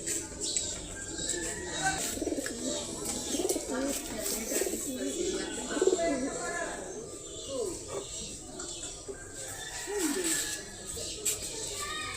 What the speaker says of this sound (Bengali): সুন্দরী একজোড়া সিলভার কবুতর মাদি ধর